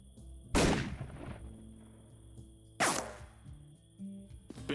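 Two sharp, loud sniper shots ring out in the video game 3 Minutes to Midnight, widely spaced and each trailing off into a short echoing decay over a quiet background.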